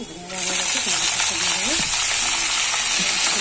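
Onion and garlic fry in a pan in a home kitchen, a loud steady hiss and sizzle that starts suddenly and continues unbroken, with occasional faint scraping of a spatula and a few utensil clinks.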